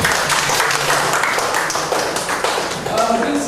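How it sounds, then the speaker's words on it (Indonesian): Dense, steady applause from an audience at a communication training session, clapping at close range throughout, with a voice briefly audible near the end. "Tepuk tangan dulu untuk peserta ini"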